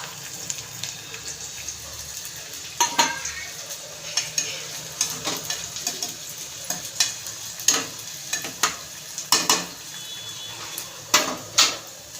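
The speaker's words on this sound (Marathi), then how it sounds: "आता मी याच्यामध्ये त्या तेलामध्ये कांदा आपण असा परतून घेऊया।" Onions tossed into very hot oil and sautéed for a Maharashtrian methi bhaji, giving a steady close sizzle broken by repeated sharp scrapes and clinks of stirring.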